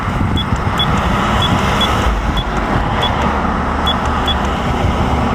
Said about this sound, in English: That's the third or fourth cop car that's pulled up there.